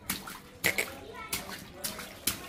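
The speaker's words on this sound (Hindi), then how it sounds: "पानी उड़ा रही है।" A small child splashing bath water, several sharp splashes spaced irregularly and close by, with a voice and adult talk around them.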